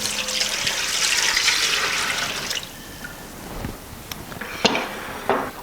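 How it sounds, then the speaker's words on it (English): Ice-cold water pours steadily into a bowl for a couple of seconds, then a few light clinks and knocks of a container follow, with no talking. "And then we put 4 cups of ice cold water."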